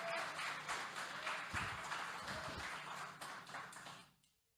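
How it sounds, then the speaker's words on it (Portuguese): A church congregation claps together in a dense, steady wash of applause that holds for a few seconds and then fades quickly to silence. "Aplaude a Ele."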